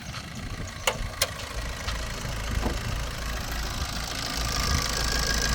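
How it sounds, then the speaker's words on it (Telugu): A 2012 Maruti Dzire VDi diesel engine idles with a steady low rumble and faint knocking, with a few sharp clicks early on. "ఇంజన్ నేనే బంద్ చేయలేదు సార్"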